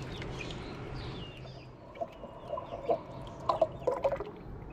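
Baby ducklings at a mini zoo in Islamabad peep in a cluster of short, bright calls that rise toward the end, over a steady wash of running water from an open shower.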